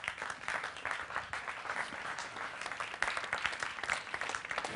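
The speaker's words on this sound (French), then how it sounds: "je pense qu'on peut dès maintenant l'applaudir" An audience claps to welcome a guest onto the stage at an evening talk on glaciers and climate change; the applause is steady, dense and fairly faint, lasting throughout.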